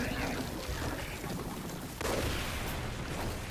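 An explosion in the video game Far Cry 5 Lost on Mars gives a sudden loud blast partway through, set against a dense, noisy game soundscape with no speech.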